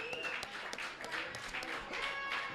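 Steady applause from a crowd, a continuous wash of clapping that fills the room at moderate volume.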